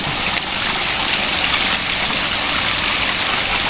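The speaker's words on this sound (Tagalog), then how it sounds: "At dito naman po sa gilid po ng fish pond ay umapaw na po yung tubig." Water spills over the edge of a flooded fishpond in a steady, dense rushing wash, loud and unbroken like a small stream, with no voices over it.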